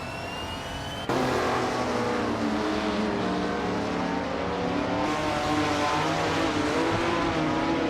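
A 1977 Porsche 936 race car engine in a racing video game, a sustained loud high-pitched drone that jumps in suddenly after a moment of lower rumble and holds steady, with no talking.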